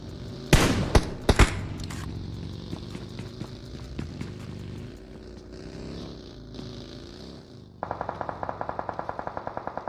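Gunfire in PUBG Mobile during a community stage esports match: several loud rapid shots early, then quieter ambience with engine hum and a steady burst of automatic fire toward the end.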